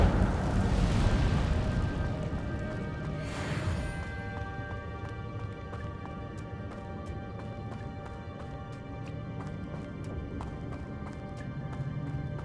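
A fire spell bursts in Hogwarts Legacy with a loud whooshing roar early on, a second flaring rush a few seconds later, then a crackling, sputtering tail of ticks and clicks as the flames die down.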